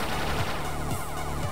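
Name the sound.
enemies firing three gunshots in a video game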